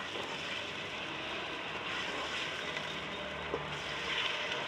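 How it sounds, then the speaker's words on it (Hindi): Garlic, ginger and onion fry in a pan over medium heat, giving a steady, even sizzling hiss that carries on without a break and without any talking. "अच्छे से लहसुन अदरक और प्याज को फ्राई करेंगे 2 से 3 मिनट"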